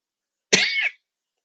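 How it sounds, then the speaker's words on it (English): A single sharp cough, close and fairly loud, lasting under half a second, with silence before and after. "Are you dying over there with your cough?"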